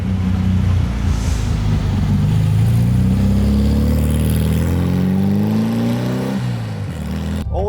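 A Porsche 911 Carrera 4 GTS drives along the road, its engine droning loudly and rising steadily in pitch as it accelerates through a gear, then dropping briefly at a shift before climbing again.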